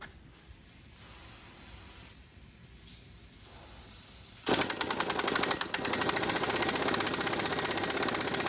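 A power impact tool spins nuts off control arm bolts during a suspension rebuild. Quiet handling noise comes first, then a loud, steady, rattling buzz that runs to the end with no talk.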